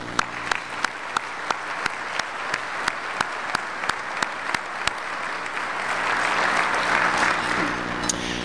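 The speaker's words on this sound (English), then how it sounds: "Please give them a round of applause." An audience applauds at a community breakfast for an educational foundation, a dense steady wash of clapping with a few sharp, regular close claps standing out, swelling slightly louder toward the end.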